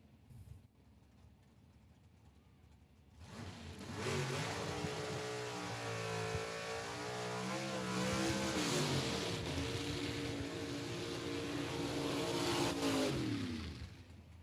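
A drag racing gasser in the right lane, from QuickTime Performance at a Southeast Gassers Association event at Knoxville Dragway, erupts into a burnout after a quiet start, its engine roaring loud and steady with wavering revs for about ten seconds.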